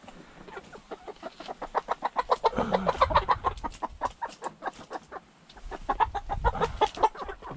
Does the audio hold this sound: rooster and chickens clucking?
yes